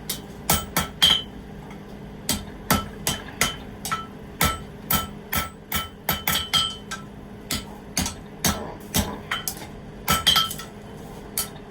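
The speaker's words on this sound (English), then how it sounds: "So I can actually use it and hammer on it." Sharp metallic hammer blows ring out one after another in a steady, uneven rhythm, each strike bright and clanging against steel, close and loud, as a quenched forged steel cutting board is hammered.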